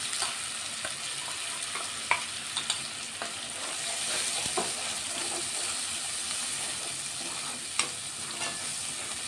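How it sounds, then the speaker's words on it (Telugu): Onion paste for egg curry frying in a pan, a steady, fairly quiet hiss and sizzle with occasional clicks and scrapes from stirring. "ఈ పేస్ట్ అంతా కొంచెం ఫ్రై అవ్వాలి. ఇదైతే కలిపేసుకుంటున్నా."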